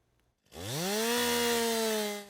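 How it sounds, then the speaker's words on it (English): A chainsaw cutting trees in Double Trouble State Park forest in New Jersey revs up from quiet into a loud, sustained roar with a rising then steady engine whine, close by. "The roar of a chainsaw rips through Double Trouble State Park in New Jersey."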